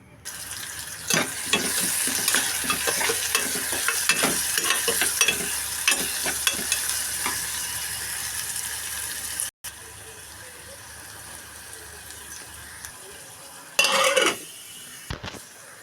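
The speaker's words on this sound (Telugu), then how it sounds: "ఆయిల్ హీట్ అయిన తర్వాత ఉల్లిపాయలు పచ్చిమిర్చి కరివేపాకు అయితే వేసేస్తానండి" Onions, green chillies and curry leaves fry in hot oil with a bright, steady sizzle and crackle, broken by clattering stirs. After a brief cut the sizzle drops quieter and a short burst of running water follows.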